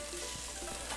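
Browned meat sizzling in a hot pan for egg foo young, a steady close frying hiss lasting about a second with no talk.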